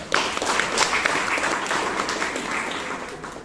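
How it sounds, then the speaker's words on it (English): Members at a Toastmasters club meeting give a round of applause for the table topics master, a moderate, even spread of many hands clapping that holds steady for several seconds. "Can you have another round of applause for the table topic master?"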